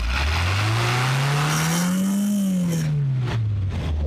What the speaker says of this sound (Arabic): احاول ان انا اقرب لكم المايك كده من صوت المكنه عشان تشوفوها او تسمعوا صوت الموتور اللي انتوا شايفينه